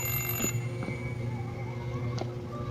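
Alarm clock-style ringing in the Unseen Exit horror video game, a steady electronic ring that goes on for a few seconds near and fairly loud.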